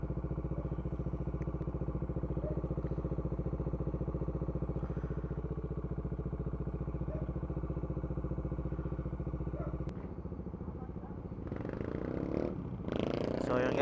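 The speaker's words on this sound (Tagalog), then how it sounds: "Malamig pa yung makina eh. Maganda takbo niya pag talagang napainit mo na sobra." Steady engine drone from a Bajaj Dominar 400 motorcycle riding on a road with the engine still cold, running continuously and fairly loud before the tone shifts near the end as wind and road noise rise.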